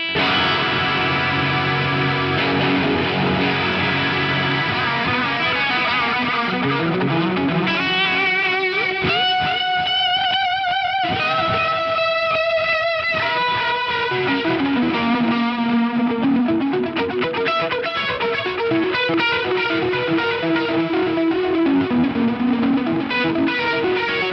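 An electric guitar played through a Fractal FM9 overdrive block, gritty distorted chords and sustained lead notes ringing out with effects, no talking.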